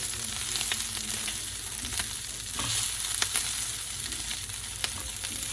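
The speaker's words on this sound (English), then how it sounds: "I'm going to put my 3 eggs in" Three eggs fry in a pan over a big burner on maximum heat, giving a steady, close sizzle and crackle with occasional sharp pops and spatters throughout.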